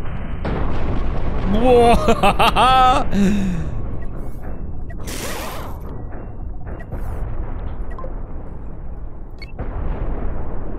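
Rocket explosions in the space combat game Cosmoteer: a deep boom with a burst of noise, then a second sharp blast a few seconds later, both loud, with a voice exclaiming briefly over the start.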